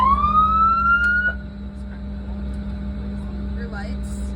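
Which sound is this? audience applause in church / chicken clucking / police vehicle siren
police vehicle siren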